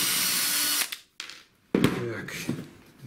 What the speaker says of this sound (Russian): Сейчас выкручу саморезы.